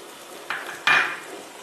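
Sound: rinsing a bowl and pouring water into the pan

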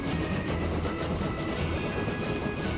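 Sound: train running in the video game Transport Fever

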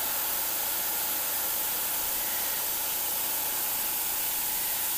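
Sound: airbrush spraying

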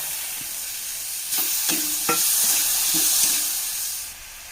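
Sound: frying tomato with onions in a pan

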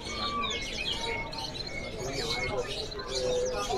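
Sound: F2 canaries chirping

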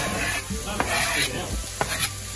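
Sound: garlic and Vidalia onion sautéing in a pan

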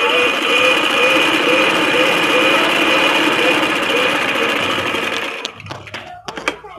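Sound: sewing machine stitching kurta seam

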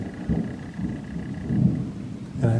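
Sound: thunder and rain

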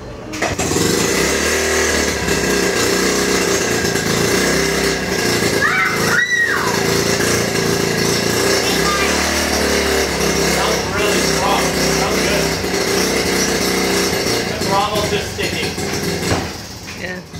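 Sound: 1969 Honda Mini Trail motorcycle engine starting and running

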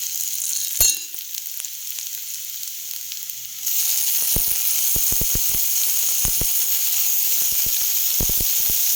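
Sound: tomatoes sizzling in frying onions, gobi manchurian

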